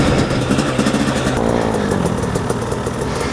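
An off-road dirt bike engine on a rough OHV trail screams at full throttle, loud and close, a steady high-revving roar with rapid pulsing that holds for the whole stretch.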